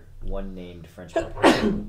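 A single sharp sneeze bursts out at close range amid a small group of people playing a Call of Cthulhu tabletop game, cutting in after a voice as talk carries on around it.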